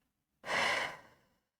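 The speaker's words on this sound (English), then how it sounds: "Relax here for 3 deep breaths." A single deep exhale during yoga relaxation, one breathy sigh rising suddenly and fading over about a second, close and clear against silence.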